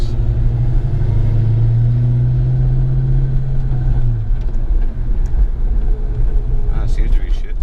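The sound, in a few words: 1993 Cobra car driving, shifting newly installed TKO600 transmission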